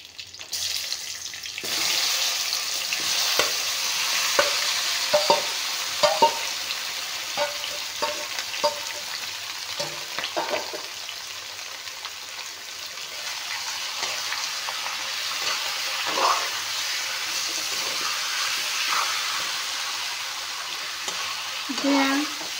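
Chicken added to a hot pan with bay leaf, then stirred and fried: a continuous sizzle with repeated scraping strokes and utensil clatter, fairly close and moderately quiet, occasional faint voice in the background.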